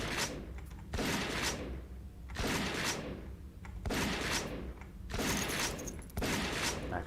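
Shotgun fire in the video game Pecaminosa: a series of loud, booming blasts, about five or six, spaced roughly a second apart, each trailing off into a reverberant tail.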